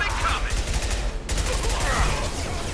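Pistol gunfire in the video game Mass Effect 2 during a firefight at a base, with rapid, dense shots and combat noise running continuously, loud and close, with some speech mixed in.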